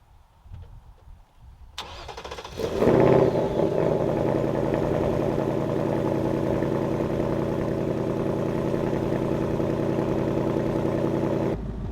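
A 2024 Mustang GT V8 with active exhaust and an H-pipe, in track mode, cranks and fires up with a loud roar, then settles into a deep, steady, rumbling idle that continues for several seconds.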